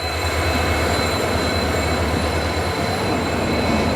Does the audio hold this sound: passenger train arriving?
yes